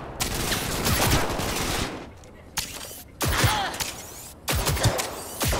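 Gunfire from a weapon in the Cyberpunk 2077 video game, coming in three loud sustained bursts of rapid shots separated by short pauses, with a voice briefly heard between them.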